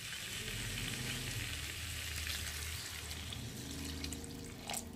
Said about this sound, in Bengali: তো চলো এখন আমি পরিমাণ মতো জল দিয়ে দেবো